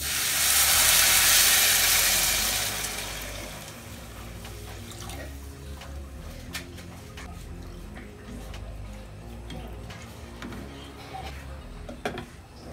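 Water pours loudly into a pot of frying rice with garlic and salt for a few seconds, then settles into a quieter bubbling with occasional clinks.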